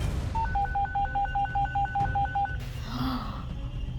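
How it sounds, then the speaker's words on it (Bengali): A telephone rings with a rapid, warbling two-tone trill that repeats steadily for about two seconds and then stops, leaving quiet room noise. "কিন্তু তখনই ফোন বেজে উঠল।"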